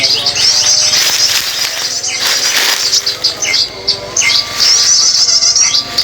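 Wild birds sing outdoors along a riverbank, with a brown-throated sunbird and a prinia among them: bright, repeated chirps and trills over a steady insect hum, fairly close and continuous.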